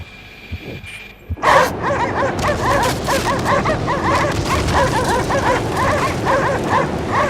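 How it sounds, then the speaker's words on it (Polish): Several dogs bark, yip and whimper in the video game Cryostasis, a dense continuous chorus that starts abruptly after a quieter opening and stays loud and close throughout. "O, biegnijcie pieski!"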